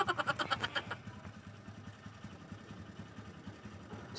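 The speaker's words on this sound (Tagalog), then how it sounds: "hinayaan ko lang siyang umandar yung kanyang makina" Honda CB110 motorcycle engine idles after an oil change, a quick rattling burst at the start settling into a low, steady pulsing idle, fairly quiet.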